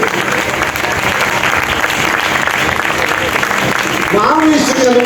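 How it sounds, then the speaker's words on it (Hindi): Audience applause for Hanuman during a Ganesh Chaturthi katha, steady dense clapping throughout with a voice speaking over it near the end. "तो आपको हनुमान जी के लिए तो ताली बजानी पड़ेगी।"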